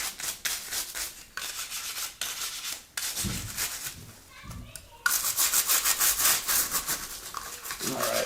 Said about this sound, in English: this scrub brush here is doing its job